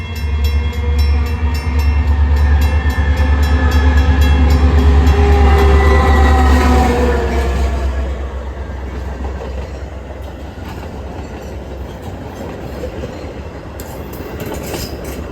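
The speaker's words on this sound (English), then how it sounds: "it wouldn't take long for our final train of Bartlett to come into the picture" Metra commuter train 2247, led by locomotive 414, passes close by on the Bartlett line: a loud heavy rumble of engine and rolling cars that peaks, then fades into a long clatter of wheels receding.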